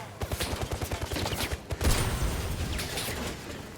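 Rapid gunfire in the video game First Light, a fast burst of close, punchy shots followed by a dense, noisy stretch of action that gradually thins out.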